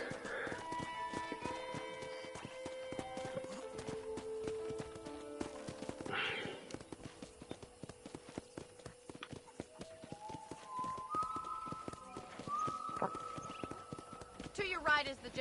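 A horse in the video game Red Dead Redemption clip-clops with a steady rhythmic hoof beat across its whole length, under spoken talk and tonal game sounds, with a few brief louder bursts.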